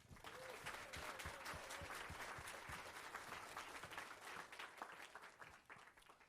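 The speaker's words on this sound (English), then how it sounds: "Please join me in giving them a big round of applause." An audience at a hackathon kick-off event breaks into a round of applause, dense rapid clapping from many hands sustained throughout, fairly near, with a voice briefly audible early on and the clapping tapering slightly at the end.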